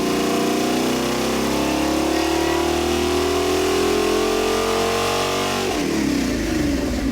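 Stroked Pontiac 326 V8 on a dyno, a loud sustained rev climbing steadily under throttle for several seconds before dropping off abruptly.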